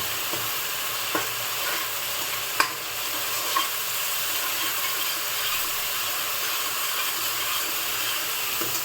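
Onion and spices sauté in oil over a low flame for a green pigeon pea curry: an even, hissing sizzle runs throughout, with a few faint clicks of a stirring spoon and no speech.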